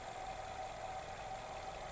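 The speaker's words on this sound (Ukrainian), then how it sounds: "Двигун працює без зауважень, рівненько, не троїть, не супунить, все як має бути." A 2019 Nissan Rogue SL AWD with a 2.5 petrol engine idles evenly, a faint, steady low hum with no misfires and no talk.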